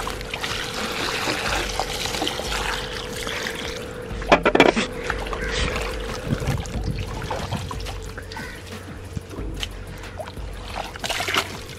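Material is tipped into a water tank set up for a moina culture, with splashing, trickling water and a few clattering knocks partway through, heard up close over a continuous wet background.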